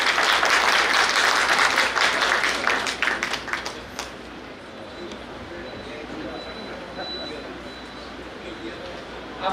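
An audience at a felicitation ceremony in Amravati bursts into loud sustained applause that fades out after about four seconds, leaving quiet room ambience and faint sounds afterward.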